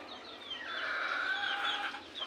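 Chicken clucking in a rural Kapampangan yard, a run of drawn-out, nasal calls close by and moderately loud, with no voices over it.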